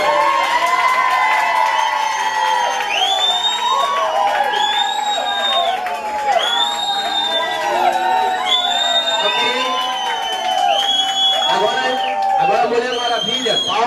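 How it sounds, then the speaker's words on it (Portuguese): A festive crowd at a condominium's annual Lavagem party cheers, whoops and shouts for Anitta, with children's voices high in the mix. The noise is loud, dense and continuous, with excited voices rising throughout. "Palmas para a Anitta."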